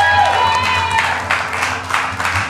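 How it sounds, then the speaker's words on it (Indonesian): Studio audience applause on a talk show, a dense wash of clapping rising after a sustained tone and continuing steadily, with voices mixed in. "Tepuk tangan buat Mas Esa."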